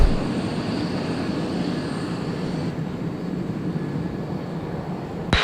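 A steady, loud roar from a Boom supersonic jet taxiing rumbles continuously at close range, a broad unbroken rushing drone with no voices.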